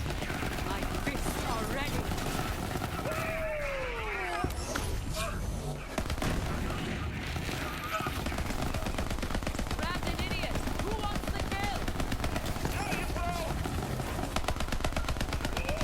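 Dense, continuous gunfire from Borderlands 3 with ricocheting bullets: rapid automatic bursts and projectile impacts layered with explosions and game effects, loud and unbroken.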